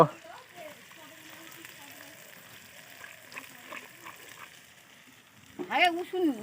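A pan of curry frying with a steady low sizzle, heard faintly under occasional nearby voices, with a louder clatter and voice near the end.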